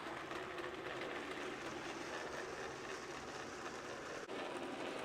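Bachmann HO scale Thomas model train running along its track with a steady, close whirring motor hum and faint rail rumble throughout, with one brief click near the end and no talk.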